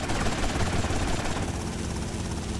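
A helicopter in the video game GTA Vice City drones with a steady, loud rotor thrum and engine whine that holds throughout, with no talk over it.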